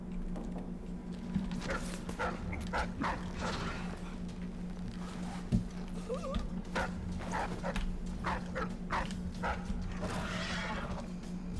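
In the video game Dishonored 2, a dog gives a series of short barks and whimpers over a low steady hum, the bursts irregularly spaced and moderately close.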